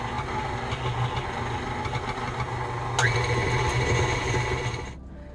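Electric mixer running at medium speed through buttercream frosting, a steady close motor hum that shifts slightly partway through and then cuts off near the end.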